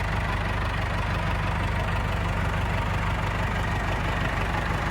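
A new farm tractor idles nearby in a steady low diesel rumble with a fine knocking pulse, unbroken and fairly loud throughout, with no voices.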